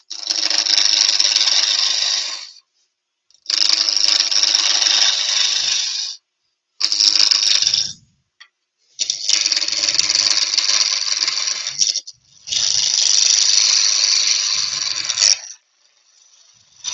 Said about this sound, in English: using the skew, I'm turning it around about 1500. I'm just going to get this rounded off.